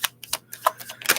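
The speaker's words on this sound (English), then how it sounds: "One more shuffle on the deck" A tarot card deck being shuffled by hand, quick crisp papery flicks and taps in an irregular rapid burst, close and alone.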